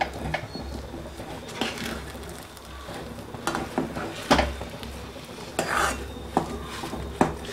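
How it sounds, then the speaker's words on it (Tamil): A spoon scrapes and knocks around a pot of rava pongal with added ghee in irregular strokes, with occasional metallic clinks over a low background hum. "கீ ஆட் பண்ணி நல்லா ஒரு பரட்டு பரட்டி விட்டுடலாம்"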